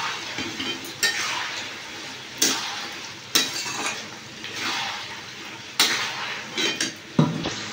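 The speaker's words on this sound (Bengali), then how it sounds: "আমি ভালো করে নাড়ি চাড়িয়ে দিই।" Chili chicken is stirred in a pan with sugar and salt, spatula scraping metal in repeated strokes while a soft sizzle and frying hiss run steadily underneath.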